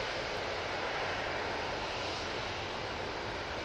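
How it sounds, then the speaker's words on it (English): An Airbus A321neo airliner departs Manchester Airport for Rome, its engines a steady, faint, distant broadband roar that holds evenly throughout with no voices. "Off to Rome with that A321neo"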